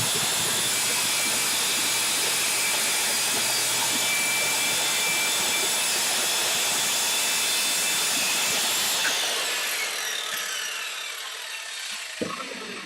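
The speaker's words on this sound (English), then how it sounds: "let's see the radial saw in action. As I cut a piece of plywood here." A radial saw cuts through a piece of plywood with a loud, steady high-pitched whine that runs for about nine seconds, then slowly winds down to quiet with a brief knock near the end.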